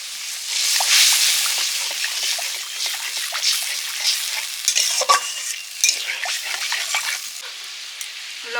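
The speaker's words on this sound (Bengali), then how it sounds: "জল দিয়ে মশলাটা একটু কষে নেব" Spice paste being stir-fried with added water in a pan for a mustard-poppy fish curry, a bright hissing sizzle broken by repeated scraping strokes of a spatula, loud and close, with no speech.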